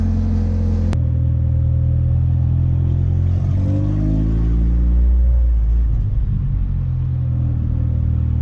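A Honda CRX Si engine idles close by with a low, steady rumble, its pitch drifting up and down slightly, running near a 14.7 air-fuel ratio.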